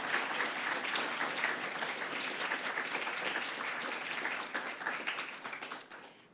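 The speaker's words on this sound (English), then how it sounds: "A round of applause for them." A dense, steady round of applause from an audience at an evening awards ceremony, continuous clapping that holds level for about six seconds before tapering off near the end.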